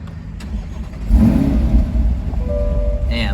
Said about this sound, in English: let's hear that big V8 start up